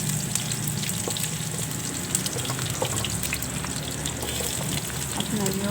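Garlic frying in cooking oil in a wok gives a steady, dense sizzle with a broad hiss and faint crackles. It runs unbroken at close range, with no voices over it.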